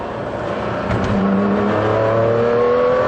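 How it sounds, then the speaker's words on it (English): Ferrari engine revving in race mode, a loud close mechanical roar that swells steadily with a rising whirring pitch as the car accelerates, no voices. "So we'll just have it in the rev band, 3, then just press it and"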